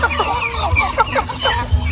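Free-range chickens in a hog-wire and net enclosure cluck repeatedly in short, overlapping calls at close range, with steady farmyard background and no speech.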